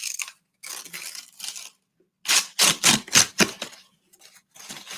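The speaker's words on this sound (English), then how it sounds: "Or you can even tear paper like this." Paper is torn in a series of close, crisp ripping bursts, several short tears in quick succession after a couple of softer rustling strokes, with near silence between them.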